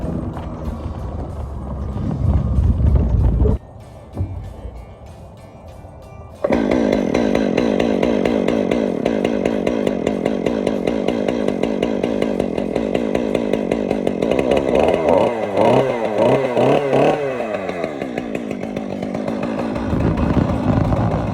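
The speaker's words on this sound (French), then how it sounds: "Après 2 minutes à avoir galéré à démarrer cette tronçonneuse" A chainsaw roars close by in cold weather, briefly dropping to a rough idle before revving back up to a loud, sustained whine with wavering pitch.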